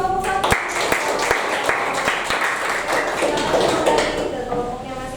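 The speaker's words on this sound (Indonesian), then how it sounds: "Tepuk tangan untuk kelompok satu." Classroom students clap for a presenting student group, a burst of sharp, uneven hand claps building into a ragged round of applause over several seconds, with voices murmuring underneath.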